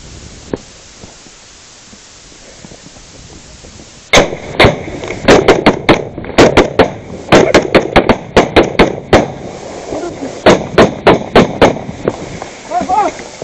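Brimob police and KKB fighters trade gunfire in Papua, a quiet opening giving way to a dense run of sharp, loud shots in irregular bursts, some close and some echoing, with faint voices between volleys.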